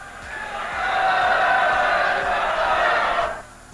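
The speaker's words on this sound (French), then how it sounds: "la République naît dans les acclamations" At the Hôtel de Ville in Paris, a crowd acclaims the birth of the Republic, a swelling roar of cheering voices that rises, holds loud, then cuts off, heard from a distance.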